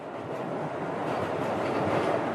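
A subway train rides along the tracks with a steady, loud rumble and continuous wheel-on-rail noise close by, no voices heard.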